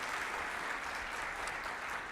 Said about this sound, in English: So join me in congratulating her and applauding her.